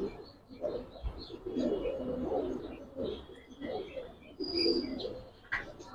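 Giribaz and coloured pigeons in a loft give soft, repeated coos in short bursts, close and fairly quiet, with a few chirps and light rustling between calls.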